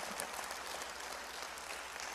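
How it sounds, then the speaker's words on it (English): An audience claps steadily at a 60th birthday celebration, a dense, even wash of many hands that stays at one level throughout with no voices over it. "I want to clap for her."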